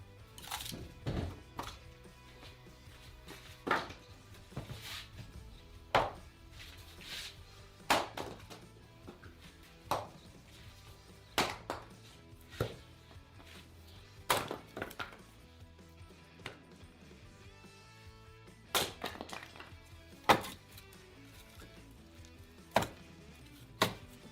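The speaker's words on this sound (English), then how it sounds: "But first we'll chop wood and make a fire." Wood being chopped for a cooking fire, repeated sharp chopping strikes at an irregular rhythm, a few blows close together then pauses, fairly close and moderately loud with no talking.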